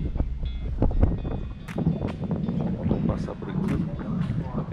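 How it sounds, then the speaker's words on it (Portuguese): Strong gusty wind buffets the microphone beside a lake during a kayak tournament, a continuous loud rumbling roar with rustling and scattered knocks throughout. "dia de muito vento hoje, hein?"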